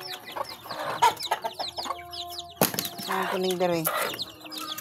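Small chickens cluck and peep in a farmyard, several birds calling in quick overlapping bursts close by while a person talks over them.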